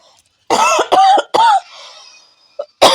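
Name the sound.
coughing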